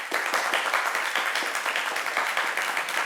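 A crowd at a televised Christmas family event gives a round of applause, a fairly loud, steady clapping from many hands with some individual claps standing out, lasting a few seconds.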